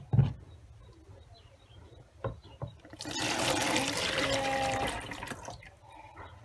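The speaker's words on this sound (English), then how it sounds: "I'll pour it into this empty plastic container" Melted shea butter mixed with water is poured into an empty plastic container, giving a steady splashing, gurgling pour for a few seconds after some faint knocks and drips.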